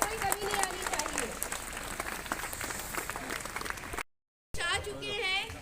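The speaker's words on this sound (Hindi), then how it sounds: "मंत्री जी का स्वागत जोरदार तालियों के साथ किया जाए।" Loud applause from a school crowd welcomes a state minister at a ceremony: dense, sustained clapping that breaks off briefly, then returns with a voice speaking over it.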